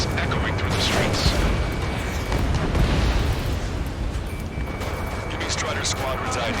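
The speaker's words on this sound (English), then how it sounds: "gunfire and the roar of jets echoing through the streets." Heavy gunfire and roaring jets fill a video game city battle under martial law: a dense, continuous rumble with thudding booms and crackling bursts, loud and unbroken throughout.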